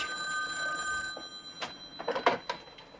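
An old-style telephone bell trills in a domestic sitcom scene, a steady ring giving way to uneven clattering bursts, moderately loud in a room with no speech.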